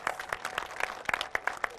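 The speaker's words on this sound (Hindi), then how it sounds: "इस कार्यक्रम को शुरू करने के लिए एक बार जोर से तालियां अजमेर शहर के लिए" A small audience in Ajmer claps in scattered, uneven bursts at a moderate distance, the claps sharp and sparse rather than a dense roar, with no talk over them.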